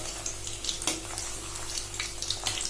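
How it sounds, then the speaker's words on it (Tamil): Chicken kofta balls frying in oil over a low flame give a soft, steady bubbling sizzle with light intermittent crackles, close by and fairly quiet. "லோ ஃப்ளேமில் வச்சு இந்த மாதிரி பொறிச்சு எடுத்துக்கலாம்"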